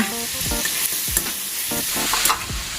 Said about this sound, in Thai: แล้วก็จะเอาไข่ที่เจียวไว้ลงไปเลยนะคะ